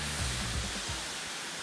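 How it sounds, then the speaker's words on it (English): A steady, loud broadband roar of a waterfall fills the whole clip, a constant rushing wash of falling water heard close with no other sounds. "this is actually my first waterfall"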